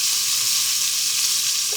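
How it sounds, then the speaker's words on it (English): Food browning in a Buydeem slow cooker gives a steady, close sizzle with a soft crackling hiss throughout, ending in a brief louder bump. "so we got a little sizzle action. We got a little browning action going on."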